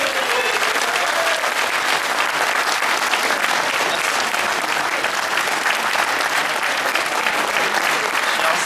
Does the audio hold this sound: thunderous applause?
yes